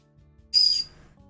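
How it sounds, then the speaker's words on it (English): A pet bird gives one short, shrill whistle-like call indoors, a sudden bright burst that fades quickly against a quiet room. "I hope the bird's not too loud."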